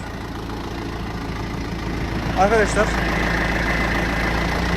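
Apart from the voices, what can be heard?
tractor engine running while maneuvering back and forth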